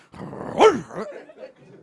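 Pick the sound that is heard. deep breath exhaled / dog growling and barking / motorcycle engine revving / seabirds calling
dog growling and barking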